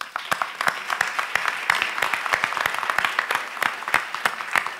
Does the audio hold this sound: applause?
yes